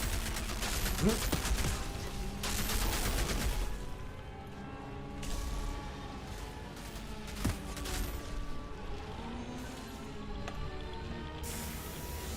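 Turret gunfire in a video game comes in loud sustained bursts and rattling volleys, with booming impacts and a roaring background for most of the stretch.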